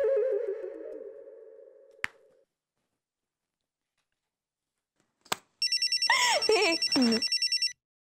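A telephone rings in a domestic indoor scene, a repeating electronic ringtone melody arriving in clear bursts after a low hum, a short snap and a pause.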